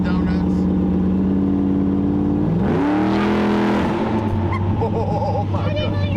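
A Corvette engine revs hard and roars loudly up close while the car spins donuts, the pitch climbing and then settling into a strained drone, with people talking over it.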